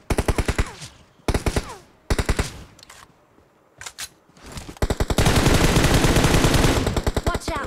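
Rapid automatic gunfire in the mobile shooter BGMI, several close bursts of machine-gun shots separated by short pauses, then a long dense sustained volley.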